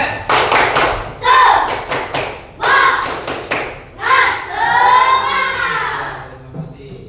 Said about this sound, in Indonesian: Tepuk semangat. Lebih semangat lagi bisa nggak? Coba sambil berdiri.